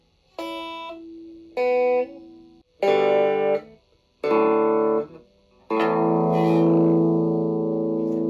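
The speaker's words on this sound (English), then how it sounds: "So we start out with the clean guitar sound with no effects, just going guitar straight to amplifier." Clean electric guitar played straight into an amplifier with no effects, a series of strummed chords each ringing out then stopping, the last one sustained longer; bright, close and loud, no voices.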